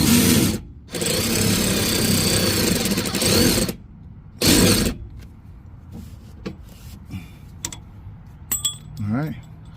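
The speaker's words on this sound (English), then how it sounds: "I got my battery operated drive on it. It's an 18 mil, and we're gonna take it loose." A battery-operated impact driver works an 18 mm bolt loose on a Dodge Ram 1500 during a lift kit install, giving two loud, sustained buzzing bursts of roughly three seconds and half a second, followed by quieter clinks of tools and parts.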